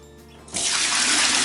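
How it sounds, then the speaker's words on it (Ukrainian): Whey from Tete de Moine cheese curds poured off into a vessel, a loud, steady gushing rush of liquid that starts abruptly after a quiet moment and continues without talk. "І зліємо 3 четвертих сиворотки."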